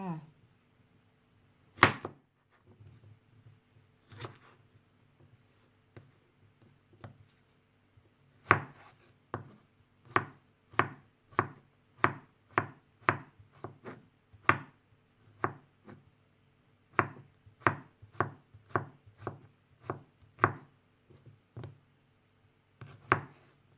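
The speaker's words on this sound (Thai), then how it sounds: "หั่นแตงกวากันค่ะ" A knife slices cucumber on a cutting board, starting with a few scattered cuts and then running into quick, even rhythmic chops, close and crisp with faint background sounds between strokes.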